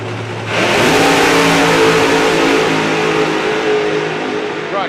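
A drag racing car launches down the strip at the Dragstalgia meet. After a brief quiet moment, a loud, close engine roar bursts in and holds steady, then thins slightly as the car pulls away.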